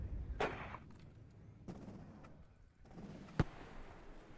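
Distant artillery fire in the Cold War strategy game WARNO: a few scattered dull booms with one sharper crack near the end, over low rumbling battlefield ambience.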